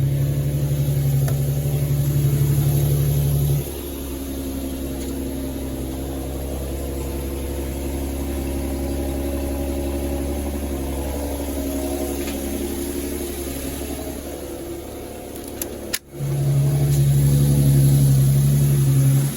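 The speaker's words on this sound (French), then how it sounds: "Donc tu peux remarquer que le moteur est quand même très bruyant étant donné qu'il y a un silencieux inox" An Infiniti G37 S with a stainless steel exhaust idles steadily nearby, a low continuous engine drone with a higher whine that drops out for a stretch and returns, no talking.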